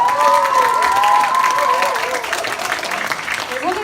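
Audience applause with cheering from a crowd at a high school teacher's speech event, loud and sustained throughout, with a whistling tone early on and voices mixed into the clapping.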